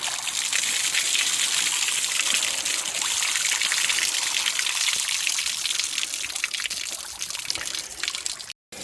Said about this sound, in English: That the water's running out of here.